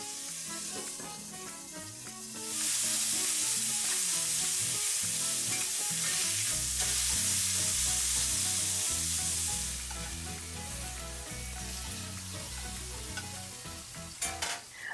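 Turkey burgers fry in a covered pan with a loud, continuous sizzle that swells louder partway through, then settles, with a few clatters near the end and no talking.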